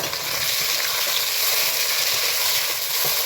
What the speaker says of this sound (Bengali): তো এখানে মোটামুটি টমেটো আমার ফ্রাই হয়ে আসছে।